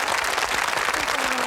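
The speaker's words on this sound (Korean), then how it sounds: "박수 한번 보내주십시오" A TV studio audience at a Korean military variety broadcast breaks into dense, continuous applause, a steady full wash of many hands clapping together.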